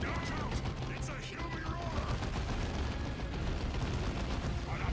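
Weapon fire in Warhammer 40,000: Dawn of War 2 battle, dense rapid booming shots and crackling blasts tearing at a vehicle, loud and continuous, with chaotic impacts and combat noise throughout.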